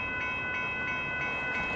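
Amtrak Texas Eagle 22, a northbound passenger train at Dittmar Road in Austin, Texas, approaches with a steady rolling rumble and faint rhythmic clicks from the rails, continuous and moderately close throughout.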